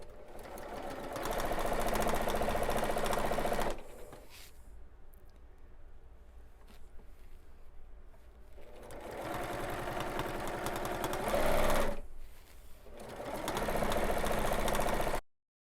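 A sewing machine stitches an improv quilt piece in place, whirring loudly in two runs with a quieter stretch of soft handling between them and a short stop near the end, heard up close without speech.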